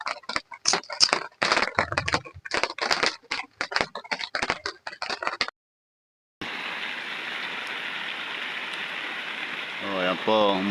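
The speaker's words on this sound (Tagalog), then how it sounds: "So ayan po, umuulan na naman." Rain falls on a mountain farm, a steady broadband patter that starts after a short pause and continues to the end, preceded by a stretch of someone speaking.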